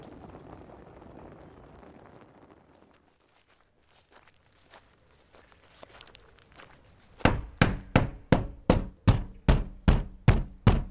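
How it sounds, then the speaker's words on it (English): Heavy, rapid knocks pound on a door in a steady rhythm of about a dozen loud thuds. Quieter shuffling and scattered small sounds come before the knocking. "Lord and Lady Isolde, answer this door immediately"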